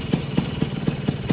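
Vespa scooter engine idling during intake repair, a close, steady putter with regular pulsing beats about four times a second, no voices.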